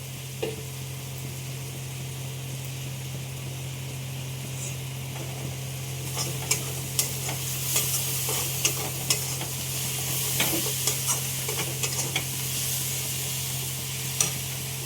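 Spices frying in oil in a pan, with the water used to rinse the spices poured in, give a steady hiss over a low hum, then a run of spitting crackles and stirring clicks.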